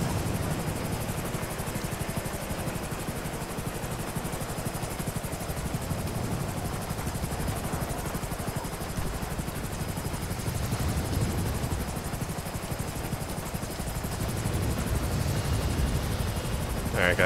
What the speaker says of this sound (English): So the rescue helicopter is sending down a basket